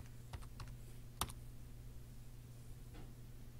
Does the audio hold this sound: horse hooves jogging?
no